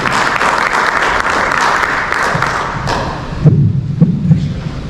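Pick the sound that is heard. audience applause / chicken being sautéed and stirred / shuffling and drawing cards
audience applause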